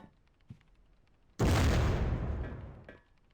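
A grenade blast in the video game Soldier of Fortune II: Double Helix, one sudden loud explosion with a long roaring decay after a few faint clicks, no talking.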